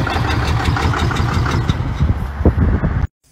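A 6.7L Cummins diesel with extreme blow-by runs with a steady, rough, loud rumble close by, then cuts off abruptly near the end.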